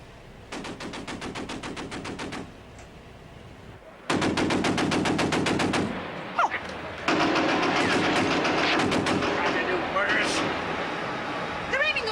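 Big warship guns firing from a naval vessel in 1973: long loud bursts of rapid, rattling gunfire, one run, a pause, then heavier sustained volleys, with voices shouting beneath the din.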